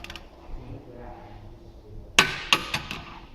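Torque wrench tightening a bolt to 44 foot-pounds during a Mondeo rear bearing change, quiet ratcheting followed by a few sharp metallic clicks close by.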